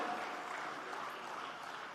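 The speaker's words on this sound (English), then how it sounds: "I think the applause should continue." Audience applause for a student's academic achievement at a college inauguration and orientation ceremony, a steady wash of many hands clapping, moderately distant and even, with no break.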